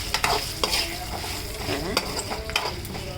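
Tempering of curry leaves and spices frying in a pan for mango pulihora, a steady close sizzle with repeated sharp clinks of a spoon stirring against the metal, no talking.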